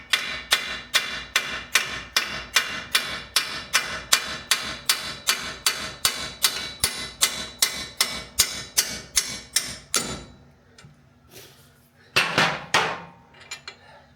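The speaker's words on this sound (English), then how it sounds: "You get to use a hammer and bang on these." A hammer bangs on the front strut of a 2015 Ford Flex in steady metallic blows, about two per second for ten seconds, then a pause and a few more sharp hits, close and ringing.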